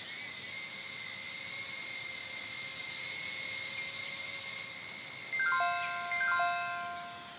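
A small Pixy camera drone hovers with a steady high-pitched whine of spinning propellers, holding an even tone before shifting upward in a few quick steps as it moves.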